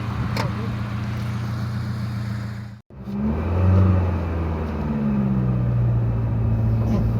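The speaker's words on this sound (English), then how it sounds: "So driving the classic Ford Capri." A classic 1980s Ford Capri coupe drives along with a steady engine hum and road rumble; after a brief dropout the engine note swells as it accelerates, then settles into a lower cruising drone.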